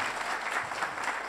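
An audience at a company presentation claps together in a brief, dense, even burst of applause, heard from within the hall at moderate level with no voices over it.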